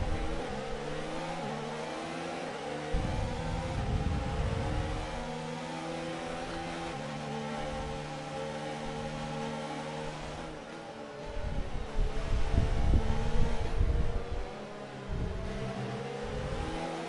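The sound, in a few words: racing car engines in an F1 racing video game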